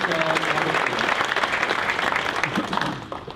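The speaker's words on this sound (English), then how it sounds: "Round of applause for Hotel" Dense applause from an awards-ceremony audience thanking Hotel Marshfield, a steady burst of many hands clapping that tapers off in the final half second.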